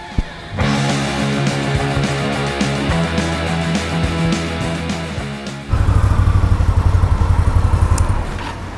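An Indian Scout motorcycle engine runs steadily with a rough mechanical rattle, then surges louder and throatier as it accelerates, with no voices.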